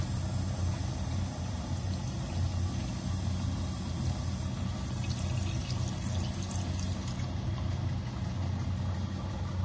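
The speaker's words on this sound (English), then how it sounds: "we're going to rinse it under the sink." Tap water running into a sink as a polished steel sample is rinsed, a steady broadband rush lasting the whole stretch over a low background hum.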